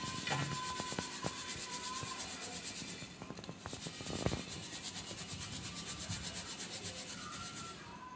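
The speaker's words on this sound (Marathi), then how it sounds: "जो राजगिरा फुलला नाही तो खाली येतो, चाळून घ्यायचे पूर्ण" Puffed amaranth (rajgira) seeds are shaken through a sieve at home, giving a steady, dense, rhythmic rustling and rasping that runs continuously at close range with no talk.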